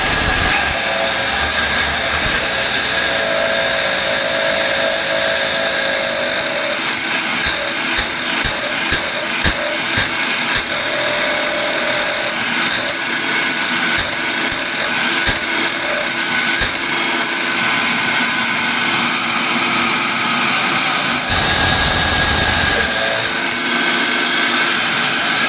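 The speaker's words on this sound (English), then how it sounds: "So I'm going to blend it on high for a little bit" A kitchen blender on its high setting grinds ingredients and oil into a thick paste for Dubai chocolate filling, a loud, continuous motor whir with a straining, gritty texture that shifts in pitch and briefly surges near the end.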